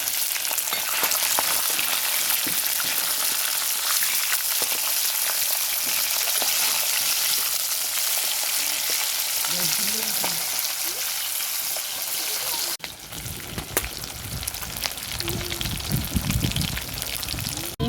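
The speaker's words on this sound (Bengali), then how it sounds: "মাছগুলো আমি উল্টে পাল্টে ভালো করে ভেজে নেব।" Pieces of rui fish fry in oil, with a dense, continuous hiss and crackle up close. Near the end the sizzle drops sharply and turns into softer bubbling with clattering as the pieces are handled.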